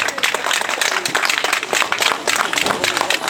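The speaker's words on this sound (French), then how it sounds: "À nouveau vos applaudissements destinés à Michaela Harvey." An outdoor crowd applauds cyclist Michaela Harvey after a women's Tour de Bretagne time trial stage in Plédran, a dense, continuous wash of clapping that holds loud and even throughout.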